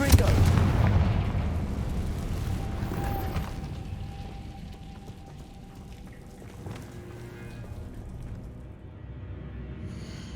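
Confringo blasting spells burst in Hogwarts Legacy gameplay, opening with a loud, booming explosion that rumbles and fades into lingering crackles and softer impacts over several seconds.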